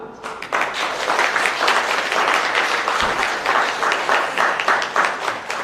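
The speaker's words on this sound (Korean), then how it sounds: "여러분의 큰 박수로 시작해 보도록 하겠습니다" Guests at an international Korean–Vietnamese wedding ceremony applaud to open the service, a sustained, even clatter of many hands clapping at moderate loudness from start to finish.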